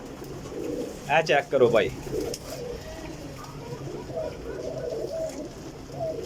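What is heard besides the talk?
pigeons cooing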